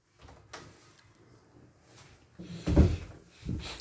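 A drawer slides open or shut inside a vehicle fitted with storage and cooking gear, giving faint rubbing scrapes and then a louder wooden thump near the end, close by in a quiet space.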